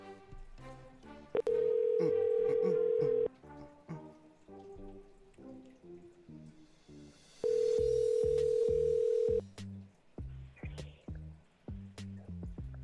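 A steady telephone dial tone sounds twice, each a flat, continuous hum lasting about two seconds while placing a call, with someone talking in between and around it.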